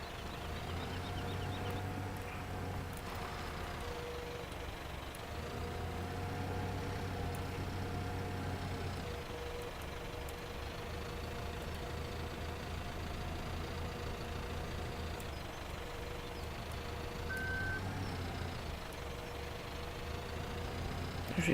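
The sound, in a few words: farm vehicle engine and reversing beeps in video game Farming Simulator 2017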